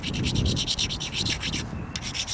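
A Mookaite flint point has its edge ground against a natural abrader stone, giving close, rhythmic scraping strokes of gritty rubbing, about a dozen quick back-and-forth passes that briefly pause near the end.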